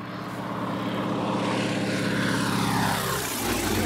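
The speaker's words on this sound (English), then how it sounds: "That's what you call a flyby." A propeller airplane makes a flyby over a lake, its engine drone loud and close, rising and then falling in pitch as it passes overhead.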